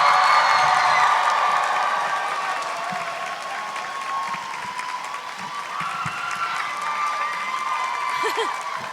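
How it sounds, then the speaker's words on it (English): Steady audience applause with some cheering as a guest is welcomed onstage at a Disney princess voice actors event, dense clapping that eases slightly and continues throughout. "please give a big round of applause to Anika Noni Rose"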